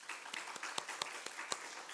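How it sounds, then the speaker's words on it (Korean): A church congregation at a Sunday worship service claps in welcome, giving a faint, sparse run of sharp, evenly spaced hand claps. "환영의 박수를 한번."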